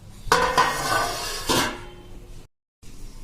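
A lid goes onto a cooking pot of moong beans set over a medium flame, giving a few close metallic clinks and clatters in quick succession, then a brief quiet.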